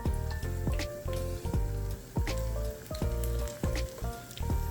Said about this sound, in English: And you have to fry this until it's golden brown.